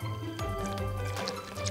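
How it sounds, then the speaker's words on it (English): About a cup of water is poured into cornstarch while making oobleck, a short liquid filling gurgle with a few drips, close up and clear with no talking. "And then you're gonna use 1 cup of water."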